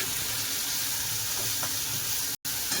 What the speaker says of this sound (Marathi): कांदा चांगला गुलाबी होईपर्यंत भाजून घेऊया